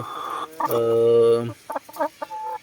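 Free-range Rhode Island Red chickens cluck close by, with one drawn-out call in the middle followed by several short, choppy clucks.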